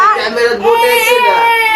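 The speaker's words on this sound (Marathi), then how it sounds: "पोरगी रडतीये, तिला औषध देते मम्मी." A baby girl cries loudly and close by in a continuous wavering wail that rises and falls, with no other sound over it.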